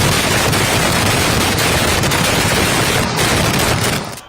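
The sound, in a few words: Pooram fireworks display exploding in daylight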